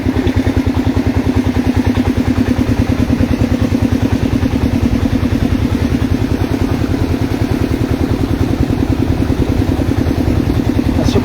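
Motorcycle engines idle and run steadily at a flooded road where bikes are ferried across on rafts, a continuous loud mid-pitched throb with rattling clatter and no speech.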